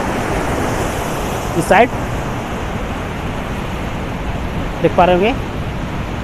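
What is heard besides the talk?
water rushing down at Pandu Pudding waterfall, Khunti, Jharkhand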